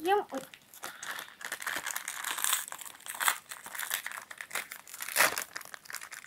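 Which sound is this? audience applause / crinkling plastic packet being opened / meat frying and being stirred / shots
crinkling plastic packet being opened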